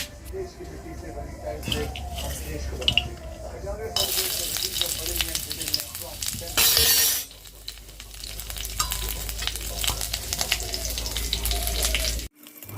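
Greens cooking in oil with fried garlic and green chillies, a continuous close sizzle and crackle with stirring, one brief louder hiss in the middle and a voice talking over it now and then.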